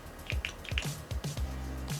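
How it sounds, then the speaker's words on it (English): Liquid foundation squeezed from a bottle onto a makeup tray, heard as a few small wet drips and squishy squirts, close and quiet. "I'm just going to squirt a little bit onto my tray."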